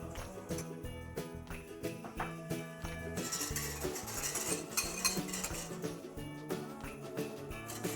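Egg yolks and sugar are whisked in a bowl, with quick repeated metallic clinks and scraping strokes that grow busier and denser partway through, close and fairly quiet.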